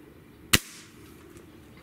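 A single sharp crack from a Gamo Hunter Extreme Pro air rifle firing one shot, fairly close and loud, with a brief fading tail and quiet room tone around it.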